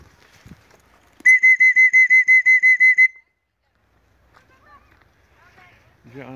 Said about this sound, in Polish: Ja muszę gwizdek wziąć.